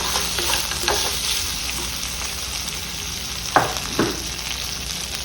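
Coriander seeds, urad dal, mustard seeds and cumin sizzle steadily in a hot pan, a constant close frying hiss broken by two sharp scraping stir knocks near the end.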